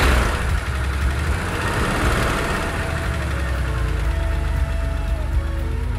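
A 1981 Porsche engine runs steadily at a loud, close, continuous idle, with a deep rumble under a droning hum.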